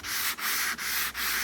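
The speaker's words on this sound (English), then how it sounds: "Then you literally start sanding." Steady rasping of sandpaper hand-sanding a headlight, close and loud, in four long passes separated by brief pauses.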